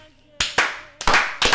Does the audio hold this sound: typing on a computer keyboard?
no